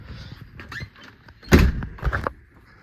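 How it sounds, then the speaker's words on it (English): A door swings shut indoors with a loud, close thump around the middle, then a second, smaller knock and rattle shortly after, with soft handling noises before and after. "I'm gonna shut the door"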